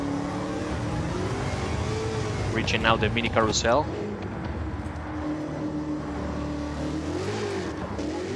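Roadster Shop Road Rage Camaro in a racing video game, its engine droning steadily through a corner on a circuit, with a brief rising rev mid-clip and someone talking over it throughout.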